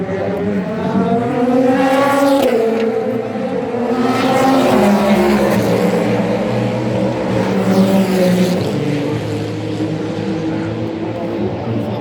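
Race cars roar past at the 2023 24 Hours of Le Mans, loud engines rising and falling as they pass in sweeping waves, with a continuous crowd and track din underneath.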